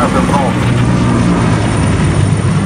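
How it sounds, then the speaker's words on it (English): Helicopter from the video game STALKER 2 Heart of Chornobyl thrums steadily with a dense, continuous rotor and engine drone throughout, loud and close, with a voice speaking over it. "You gotta watch out for helicopters."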